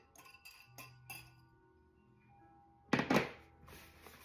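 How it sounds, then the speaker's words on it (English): Eggs cracked and dropped into carrot cake batter in a glass bowl: a few soft knocks and clinks near the start, then a louder wet clatter of eggs going in, close and with no talk. "So now I'm going to add my 3 eggs."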